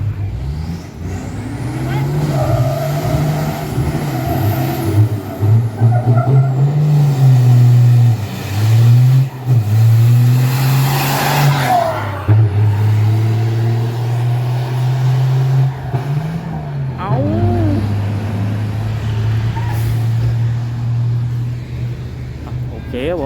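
A tuned garage-built race car runs at a Thai racetrack, its engine droning loud and close, climbing in pitch through repeated gear shifts with brief drops between, while someone talks over it.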